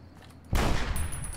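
A burst of gunfire erupts in the modded Fallout: New Vegas video game after brief quiet, a loud, dense volley of rapid overlapping shots that keeps going to the end of the clip, with no talking.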